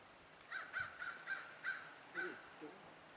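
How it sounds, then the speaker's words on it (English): A crow caws in the background on a mountain hike, a faint series of about six evenly spaced harsh calls followed by a softer, lower croak. "not like that crow that's in the background now."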